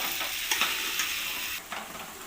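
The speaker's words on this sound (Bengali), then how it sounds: "কড়াইতে ধনে পাতা কাসুরি মেথির সাথে আমি আলুর দমটা ভালো করে কষিয়ে নেব" Boiled potatoes get sautéed in a wok with kasuri methi and coriander leaves: a continuous close hiss of frying, broken by a few quick stirring scrapes, and no voices.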